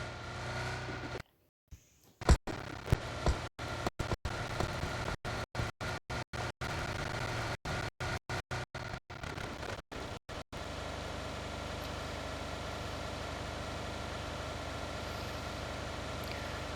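A vehicle engine drones steadily in PUBG Mobile, a low continuous hum with repeated brief dropouts in the first half, then an unbroken even rumble, moderately faint with no talking.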